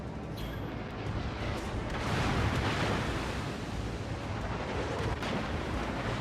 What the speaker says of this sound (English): Those battleship shells are not going to hit me.